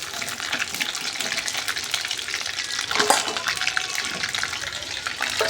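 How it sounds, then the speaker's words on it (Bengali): Chicken pieces stirred and fried in hot oil in a home kitchen, giving a steady close sizzle with scraping stir noises throughout and a brief louder clatter midway. "ভালো করে নেড়ে করে ভেজে নিচ্ছি"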